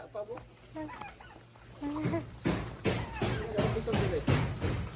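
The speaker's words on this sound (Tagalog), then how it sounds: "Andito na ang mga manok ko." Chickens cluck and squawk repeatedly nearby, short rough calls overlapping, with a voice talking among them and a steady background hum.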